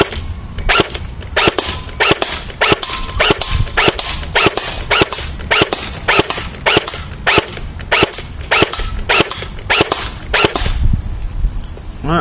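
A JLS FN2000 toy blaster fires semi-automatic at a target 50 feet away: a long, steady run of sharp, loud shots at a fairly even pace over a constant mechanical whir, with no voices.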